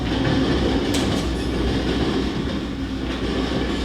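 Steady rumbling of a commuter train in motion, with rhythmic wheel clatter and a faint metallic squeal, continuous and fairly loud with no talking.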